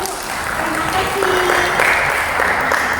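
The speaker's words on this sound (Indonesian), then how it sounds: "Tepuk tangan, bagus Ibu" Steady applause from participants at a financial management training session, dense and continuous throughout, with faint voices mixed in.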